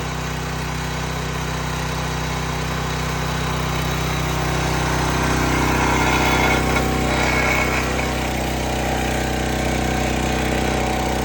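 A Predator 212cc small gasoline engine, swapped in to replace a Honda GC190, runs steadily and loudly at a constant idle with a rough mechanical drone, no voices heard.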